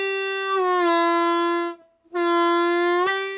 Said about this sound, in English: This is the most bluesy note on the whole harmonica.